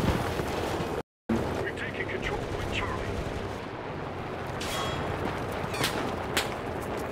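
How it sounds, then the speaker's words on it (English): Machine gun fire rattles through a chaotic World War II infantry battle in Enlisted, sharp repeated reports and booms under a constant roar of combat noise, with a momentary dropout near the start. "Machine gun fire up there."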